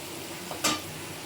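A brief stir of taro leaves frying in a pan, a soft scrape and sizzle swelling for a moment over a quiet low hiss, close and alone.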